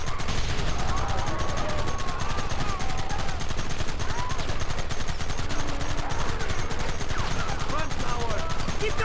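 Dense, continuous gunfire from the Western video game Red Dead Redemption, rapid overlapping shots filling the whole stretch at a steady loud level, with shouting voices mixed in.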